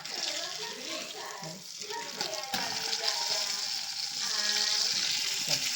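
Salmon fish frying in a pan, a steady broadband sizzle running continuously under the cooking, fairly close and even in level throughout.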